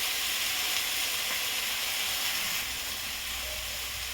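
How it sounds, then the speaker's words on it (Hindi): Onion and tomato sizzle steadily in a pan for green mung dal, a close, constant hissing fry with a faint stir or two and no voices. "प्याज टमाटर अच्छी तरह भून चुका है।"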